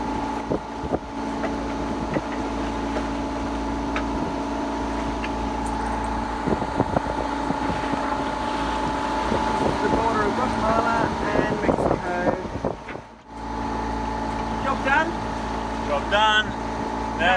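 A sailboat motoring into port under its engine, a steady low drone with wind buffeting the microphone and water noise, as people talk intermittently.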